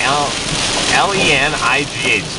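Steady broadband rain hiss fills the clip, with faint background voices and some higher tonal whines riding over the constant downpour.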